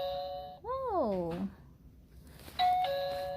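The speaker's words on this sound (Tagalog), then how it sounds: "Doorbell. Then we can open the door." An electronic doorbell on a toy dollhouse playset plays a bright chime, then falls silent and rings a second steady chime, fairly close, with voices talking nearby.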